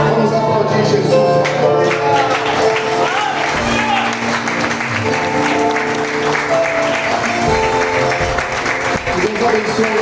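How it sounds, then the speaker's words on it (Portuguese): A church congregation claps together during a worship service, steady applause sustained throughout, mixed with music and voices speaking and calling out over it. "Vamos aplaudir Jesus."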